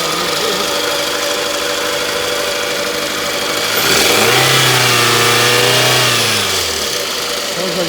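A car engine at a local auction turns over with a rough start, idles unevenly, then revs up and settles back, loud and close throughout.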